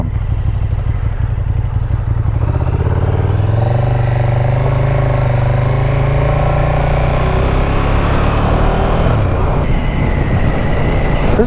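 A 2017 KTM 1290 Super Duke GT motorcycle engine drones loudly while riding, its deep rumble rising and shifting in pitch as the bike accelerates, with wind noise mixed in throughout.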